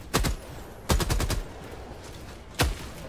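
Gunfire in the video game Helldivers 2: three sharp, loud bursts of shots spaced about a second apart, each one a quick rattling cluster that cuts off abruptly.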